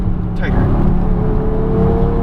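A 2017 Mercedes-AMG GT S accelerates on a race track, its engine a steady broadband roar with a rising tone, loud and close throughout, with a brief whine early on.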